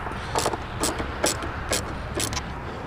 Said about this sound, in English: take the top nuts out. Just the two